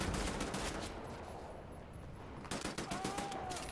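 Gunfire in the first-person shooter Wolfenstein: The New Order: dense bursts of automatic shots rattle close up, ease off briefly, then return in a fresh rapid volley, with no talking.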